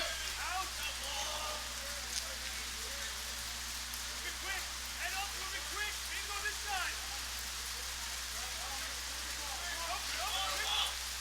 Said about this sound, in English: Rain again falling quite hard.